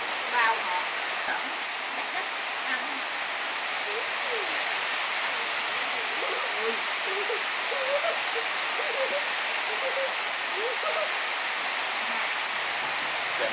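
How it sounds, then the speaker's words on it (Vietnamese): Heavy rain from a storm falls in a steady, dense hiss of drops on surfaces that lasts the whole stretch, with faint background sounds underneath. "Trời mưa này gầu quá"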